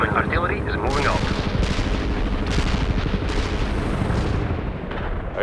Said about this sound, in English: Artillery strikes. Incoming fire, Romanov.